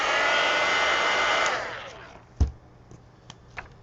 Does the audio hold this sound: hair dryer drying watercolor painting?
yes